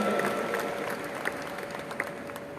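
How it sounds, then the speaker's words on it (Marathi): An audience claps at the inauguration of the National Women's Parliament, a moderately distant, steady patter of applause from a crowd with a few sharper individual claps standing out. "टाळ्यांचा मोठा कडकडाट होऊ द्या."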